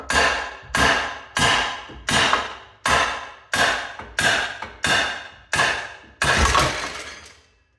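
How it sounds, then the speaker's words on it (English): A hammer bangs on a control arm at the ball joint during CV axle work on a 2011 Subaru Forester, with nine loud, evenly spaced metallic strikes about every 0.7 seconds and the last one ringing longest, and no talk. "Or I could just hit it with my hammer."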